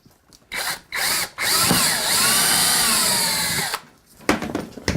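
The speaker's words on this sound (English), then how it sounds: "I'm going to very carefully drill a hole in the bottom of our briefcase" Power drill boring a hole through the bottom of a briefcase, short close-up bursts of whirring motor followed by one long grinding run with pitch wobbling as it bites, then stopping with a few clunks.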